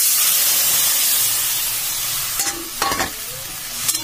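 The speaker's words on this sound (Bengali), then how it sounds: "এবার যে আমি তেঁতুলটা ভিজিয়ে জলটা বার করে নিয়ে দিয়ে দেবো জলটা" Tamarind water pours into a gram flour batter in a pan, giving a steady close hiss and faint sizzle with a few brief splashy bursts near the end; no talking.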